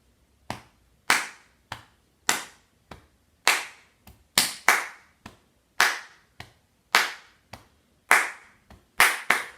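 Sharp hand claps struck in an uneven rhythmic pattern as body percussion for a school lesson, about fifteen crisp, close hits spaced irregularly across the stretch, standing alone with no talk.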